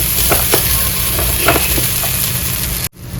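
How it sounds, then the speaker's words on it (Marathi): Garlic, cumin and coriander seeds roasting in a little oil for chicken kharda give a steady, loud, close sizzle throughout, with a brief drop just before the end. "थोडंसं तेल टाकायचं आणि भाजून घ्यायचं चांगलं"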